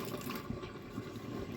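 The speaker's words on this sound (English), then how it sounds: "First thing I do is dump the water, soap, and lemon shine mixture." A mixture of water, soap and Lemi Shine is dumped out of a container used for cleaning brass, giving a short, close gush and slosh of pouring liquid.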